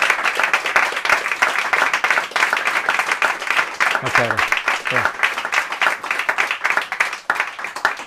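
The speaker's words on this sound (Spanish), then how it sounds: "Después de un gran aplauso" Sustained applause from an audience at the end of a health talk, dense even clapping running the whole length with a brief low voice partway through.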